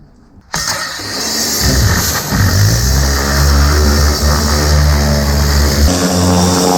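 A Ford BF XR6 cranks and fires after a clutch replacement, then settles into a loud, steady idle with a strong low rumble that holds close for several seconds.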